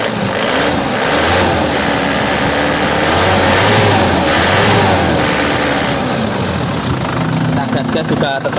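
Isuzu Panther LS Turbo diesel engine from 2011 or 2012, revved under the open hood: a loud, steady clattering drone that swells and eases, close up, with someone talking over it.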